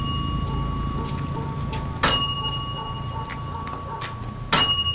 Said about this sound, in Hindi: अभी सुन पाए होंगे घंटी की आवाज़ बज रहा है टंग करके